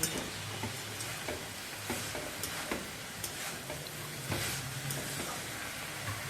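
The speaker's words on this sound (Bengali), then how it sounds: "গ্যাসটাকে একটু লোতে রেখে এরমভাবে নাড়াচাড়া শুরু করব" Grated coconut and jaggery being stirred in a pan over low heat, soft repeated scraping strokes of a spatula with faint sizzling and light ticks, no talking.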